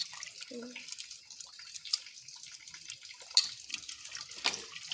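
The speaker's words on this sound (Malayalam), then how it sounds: "അപ്പോൾ ഇത് തോനെ വെള്ളം ഒഴിച്ചിടണം കേട്ടോ" Plenty of water pours steadily into a pressure cooker while cooking tapioca kurma, a close, continuous splashing rush with a few sharper clinks and spatters along the way.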